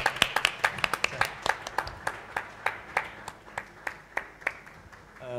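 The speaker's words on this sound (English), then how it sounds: "We're gonna give you a round of applause." Sparse clapping from a small audience at an arts and sustainability panel event, with a few dozen distinct claps at an irregular pace, fairly close and moderate in level, fading slightly toward the end.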